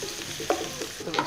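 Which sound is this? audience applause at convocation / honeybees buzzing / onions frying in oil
onions frying in oil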